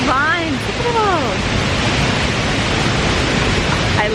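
A Maui, Hawaii waterfall pours with a loud, constant broadband rush that fills the scene from start to finish, with brief birdlike chirps near the beginning.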